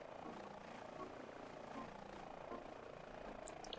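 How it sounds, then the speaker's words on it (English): A military helicopter armed with rockets thrums steadily in Microsoft Flight Simulator, its rotor drone continuous and close, with a voice talking faintly over it. "Said the guy who's flying a military helicopter with rockets."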